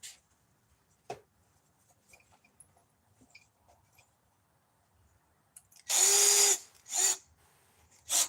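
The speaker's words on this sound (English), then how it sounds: "I'm going to come over here out of sight and drill these holes." A power drill whirs in two loud bursts near the end, a long run followed by a shorter one, after a stretch of quiet shuffling and a sharp knock.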